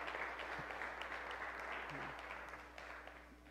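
A church congregation applauds in a steady, dense patter of clapping hands that slowly fades, heard at a distance and fairly faint.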